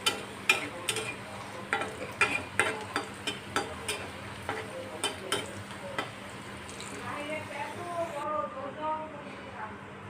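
Browned onion and garlic tempering poured into a pan of vegetarian mixed vegetables, crackling into a sizzle with sharp clinks and stirring taps at the start, as a voice talks over it.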